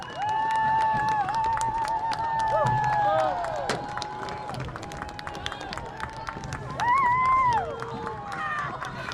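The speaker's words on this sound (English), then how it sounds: "As the Kindred fans get up and clap" Football fans at a high school game between Kindred Vikings and Devils Lake Firebirds rise and clap, a steady patter of crowd applause and cheering under a announcer's voice, with whistle-like tones cutting through at times.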